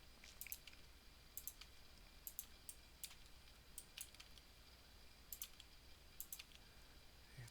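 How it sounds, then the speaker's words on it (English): Computer mouse clicks and keyboard key presses during 3D modelling, sharp isolated taps coming in small clusters every second or so over a low steady background hum. "We're just clicking or left clicking and hitting E to extrude"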